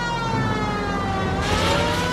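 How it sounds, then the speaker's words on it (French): A police car siren in the video game L.A. Noire wails loudly and steadily through the whole stretch, a continuous, dense tone with no pauses, heard alone. "vais mettre la sirène, comme ça au moins ils vont laisser passer"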